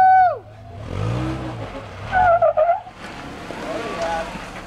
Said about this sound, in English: It's a good opportunity to do a 4-wheel burnout as you dry off your tires